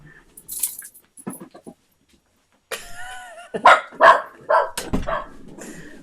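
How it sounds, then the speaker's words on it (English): Indoor dog barking in several sharp, loud bursts clustered near the end, with quieter scattered noises and faint rustling before. "Sorry. The dog."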